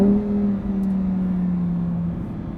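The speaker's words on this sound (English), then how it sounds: "I'm not supposed to be drifting a Lamborghini around the racetrack." A Lamborghini Huracan EVO drifting on a racetrack, its engine holding a steady droning tone that slides slightly lower over a couple of seconds, loud and alone.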